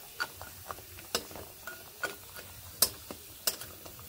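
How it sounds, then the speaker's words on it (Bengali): Lentil dumplings (bori) frying in a little hot oil in a wok, heard as a quiet background sizzle punctuated by evenly spaced light ticking clicks, like a spatula tapping the pan. "এইভাবে এপিট ওপিট লাল করে ভেজে নিচ্ছি।"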